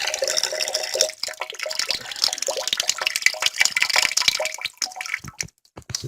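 An Android phone from 2015 is dunked into water during a waterproof test, giving splashing, gurgling and bubbling sounds with sharp drips and sloshes that fade into brief quiet near the end.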